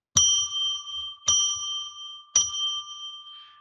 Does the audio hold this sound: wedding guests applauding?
no